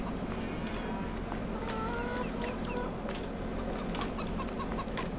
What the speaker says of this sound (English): They just do a lot of clucking like chickens do.